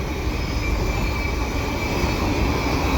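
A long CN potash unit train of empty cars rolls past at speed with a loud, continuous rumble and a thin steady wheel squeal, with no voices.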